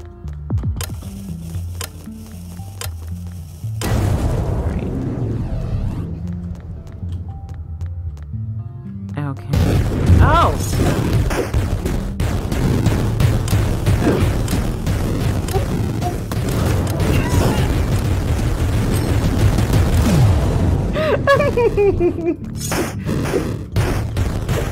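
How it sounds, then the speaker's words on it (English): Bombs go off in Zelda: Twilight Princess as heavy booms and crashing bursts, with a brief lull before a long, loud stretch of repeated blasts and rumbling debris; game music and effects fill the background. "Bombs."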